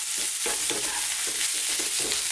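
Beef and broccoli stir fry sizzling steadily in a hot pan as fresh chili goes in, with a constant frying hiss and a few soft stirring scrapes and knocks.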